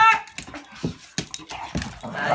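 A dog whimpering and yipping in short, uneven bursts close by, with a person speaking softly between the cries.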